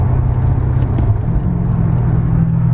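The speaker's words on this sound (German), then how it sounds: "es ist schon echt gut unangenehm laut hier in dem Auto" Cabin of a Mercedes-Benz CL500 C216 at speed while refusing to take throttle and juddering: a loud, steady, deep rumbling drone with road and engine noise filling the interior, with no talking.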